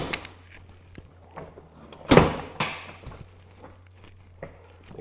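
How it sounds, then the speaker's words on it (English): A Polaris Pro XP vault enclosure door on a UTV is shut with one sharp, loud slam near the middle. Softer clicks and rattles of handling come before and after, and there is no talk. "Then I'll close the door."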